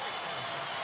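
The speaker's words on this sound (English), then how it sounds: "listen to the round of applause from this crowd" Crowd applause fills an arena at a college basketball game during a timeout, Kentucky hosting UNC Asheville: a dense, steady wash of clapping held at an even level throughout.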